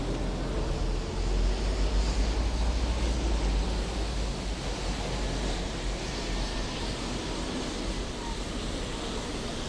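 Steady wind buffets outdoors near Big Ben and Westminster in London, a broad low rumble with gusts swelling early on, continuous throughout with no voices.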